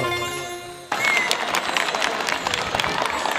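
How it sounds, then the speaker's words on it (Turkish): A sustained held musical tone cuts off abruptly, and a crowd at an Islamic hymn gathering in Gaziantep breaks into loud, dense applause and cheering that continues steadily to the end. "Alkışlar değerli kardeşlerime gelsin inşallah"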